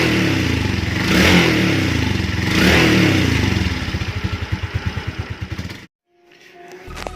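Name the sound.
Raider J 115 Fi motorcycle stock exhaust revving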